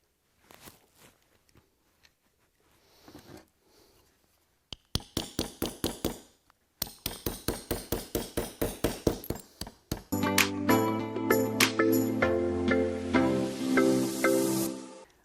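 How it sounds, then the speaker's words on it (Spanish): A glass bottle is crushed into small shards by repeated hammer-like blows, first sparse knocks, then rapid clinking strikes in bursts, ending with loud continuous grinding and chinking of broken glass pieces. "hemos machacado ya prácticamente la botella"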